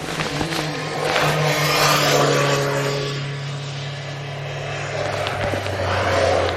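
Motorcycles ride past on a smooth road, heard from another rider's motorcycle: a steady engine drone with a broad swell of passing noise peaking around the middle, under constant wind rush and no talk.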